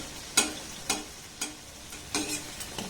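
Egg and banana pitha frying in a little oil: a quiet sizzle underneath a series of about six sharp utensil clicks and taps spaced irregularly, close and clear with no talking.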